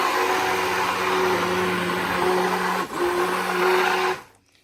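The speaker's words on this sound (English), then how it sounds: "So when you're blending it" A blender whirs steadily and loudly as it purees Scotch bonnet peppers for Jamaican pepper sauce, the motor holding a constant hum with a brief dip near the end before cutting off.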